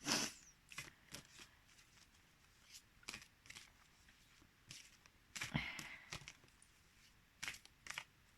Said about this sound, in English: okay, we'll do a quick shuffle.